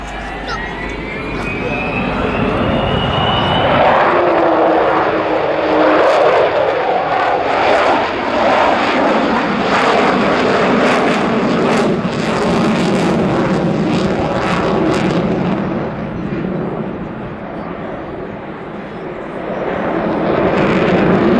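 An Avro Vulcan bomber passes over the Southport air show, its engines a loud sustained roar that rises with a sweeping whine and then holds steady; a commentator talks over the noise throughout.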